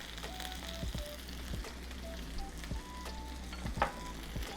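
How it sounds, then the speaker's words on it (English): Fresh garlic cloves sizzle steadily in a hot pan, a continuous close frying hiss with light crackles and a few soft taps, no voices. "take 2 small cloves of garlic, and I'm gonna add it directly to my pan"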